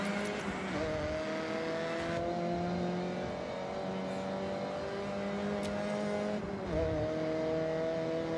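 A car engine in the racing video game Forza Horizon revs and climbs through the gears in a steady loud drone, with brief drops at a couple of shifts and no talk over it.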